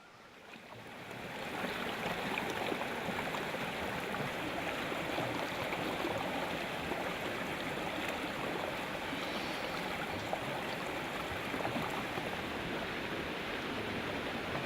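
The Bore River at Kaladungi near Corbett flows in a continuous broad rush of water, steady and moderately loud, with no voices over it.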